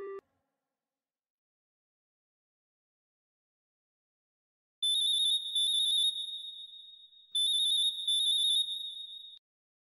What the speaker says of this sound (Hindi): यार रिंग जा रही है।